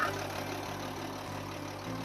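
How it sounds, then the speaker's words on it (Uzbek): An FM World WD1604E tractor's diesel engine idles close by, a steady low rumble with an even, rhythmic knock and no voices. "Motor ovozini eshitasizlar hozir."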